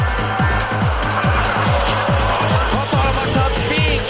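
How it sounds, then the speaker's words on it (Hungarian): A Formula 1 car at race speed brakes hard, its engine note rapidly stepping down through gears in a rhythmic series of downshift sweeps, loud and sustained over crowd and track noise. "Hatalmasat fékez Lewis Hamilton."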